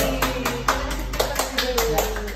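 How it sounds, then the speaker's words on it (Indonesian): A small group claps hands in a quick, uneven rhythm, sharp distinct claps repeating over about two seconds, fairly close, with a steady background hum and some talk underneath. "Kita kasih tepuk tangan buat Yuda Senpai."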